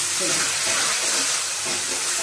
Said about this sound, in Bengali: দিচ্ছি 1 চামচ ঘি, যাতে কড়াইয়ে না লেগে যায়।